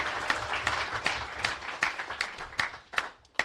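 Live audience applause at a podcast recording, a scattered crowd of hands clapping with individual sharp claps standing out, moderately close and tapering off near the end.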